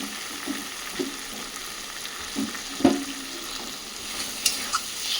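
Lote (Bombay duck) fish frying with chickpea greens in a pan, stirred with soft scraping clinks over a steady low sizzle and one sharper knock near the middle.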